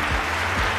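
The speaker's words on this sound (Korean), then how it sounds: "함께하는 모든 분들 한 번 더 큰 박수로 함께 축하를" A large audience at a seminar celebrating an opening claps together in a dense, steady burst of applause, loud and continuous for the whole short moment.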